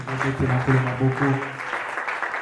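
Church congregation at a French-language prophetic service applauding and cheering, a broad crowd roar over sustained music with a rhythmic pulse.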